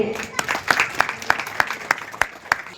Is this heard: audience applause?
yes